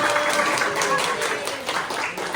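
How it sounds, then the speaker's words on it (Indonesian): A classroom group applauds, a steady wash of clapping hands that holds at a fairly even level for a couple of seconds, with faint voices mixed in. "Oke, beri aplaus untuk kita"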